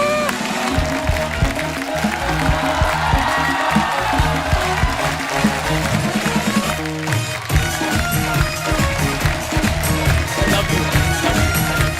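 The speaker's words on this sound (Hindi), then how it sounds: "आप सबकी जोरदार तालियों के बीच please welcome mister Tiku Talsania साहब।" A large TV studio audience at The Kapil Sharma Show claps steadily and loudly throughout, with music playing underneath and some cheering mixed in.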